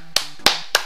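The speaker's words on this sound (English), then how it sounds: "Give yourself a round of applause." Three sharp, single claps spaced about a third of a second apart, crisp and close, with no voices.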